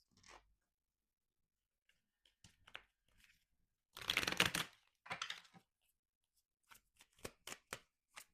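Tarot cards shuffled by hand for a reading: soft riffling bursts, one dense flurry in the middle, then quick crisp card snaps toward the end, close and quiet with no talking.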